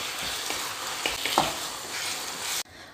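Vermicelli stirred into a chicken filling in a pan, a steady close sizzle with a few soft scraping strokes, cutting off abruptly near the end.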